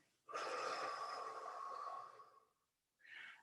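A forceful breath pushed out during a Pilates mat exercise with a resistance band, one long airy exhale lasting about two seconds, close and clear, followed after a short silence by a brief second puff of breath.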